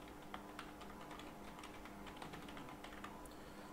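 Steady clicking of keys on a computer keyboard as a domain name is typed into a web browser, with uneven bursts of light taps running throughout at close range and no one speaking.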